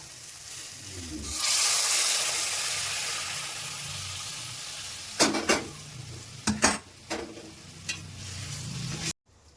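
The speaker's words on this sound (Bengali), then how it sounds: "এবার আমি গরম জলটা দিয়ে দেবো" Hot water is poured onto spices and tomato paste frying in oil for an egg curry, setting off a loud rushing hiss that settles into a bubbling sizzle, followed by several clattering stirs and scrapes against the pan.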